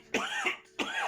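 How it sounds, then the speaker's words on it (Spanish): Two separate coughs, close and fairly loud, the first a sharp burst with a short follow-up and the second after a brief pause, with no talking. "Me ha cogido la tos."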